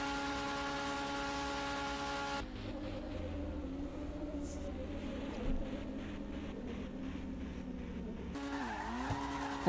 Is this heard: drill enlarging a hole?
no